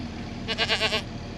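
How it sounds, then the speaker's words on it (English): Registered pygmy goats bleat by a barn, one short wavering call about half a second long, fairly close against a quiet background. "They are pygmy goats. Registered pygmy goats, right?"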